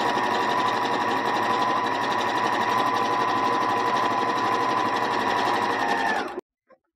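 Sewing machine stitching a fabric face mask runs at a steady, close, high-pitched whir for about six seconds, then stops abruptly, followed by a single faint click.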